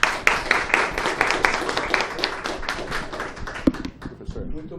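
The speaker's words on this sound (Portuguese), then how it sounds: "peço a todos uma salva de palmas para que nós possamos recebê-lo" An indoor audience at a meeting breaks into steady applause to welcome a speaker, many hands clapping densely and continuously at a moderate distance for several seconds.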